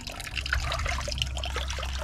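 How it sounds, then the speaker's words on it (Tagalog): Water leaking heavily through soft, rotting plywood splashes and patters in a dense, steady stream of drips, fairly close and with no one talking over it. "Lakas ng tulo."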